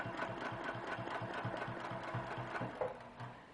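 A sewing machine quilts a feathered plume toward a seam line, a quiet steady mechanical hum with rapid rhythmic needle knocking, fairly faint and continuous, easing off slightly at the end.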